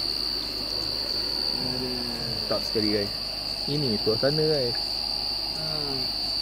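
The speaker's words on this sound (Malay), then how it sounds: "Background kita bunyi cengkerik kan." Crickets at a wild campsite at night give a constant high, shrill chirring throughout, while someone talks over it.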